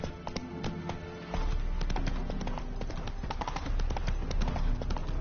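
Horse hooves clip-clop in the video game Witcher 3, a steady, fast rhythmic run of loud, close hoofbeats that continues without a break.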